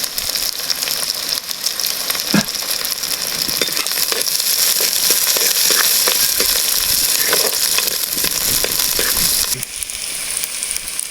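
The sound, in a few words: small onions and dried red chillies frying in oil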